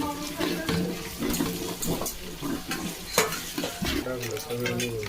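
Ginger garlic paste fries with spices in a pot for biryani, a crackling sizzle under repeated stirring and scraping, with faint tonal sounds in the background.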